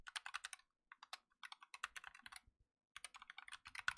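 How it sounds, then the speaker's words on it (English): Quick bursts of key presses on a computer keyboard as an email address is typed, close and clear, with brief pauses between clusters of strokes in an otherwise quiet room. "I'm typing it accurately."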